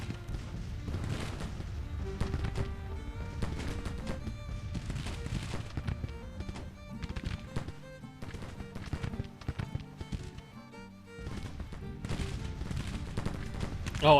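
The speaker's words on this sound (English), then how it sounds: "Take some shots at Frost Brigade." Civil War musket volleys and artillery fire in Grand Tactician crackle and thump repeatedly at middle distance, forming a dense, ongoing battle din.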